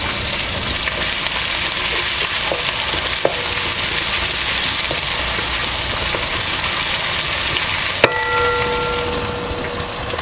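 Chopped onion with cumin sizzles steadily in hot oil, a loud continuous frying hiss with a few faint clinks of a utensil against the pan.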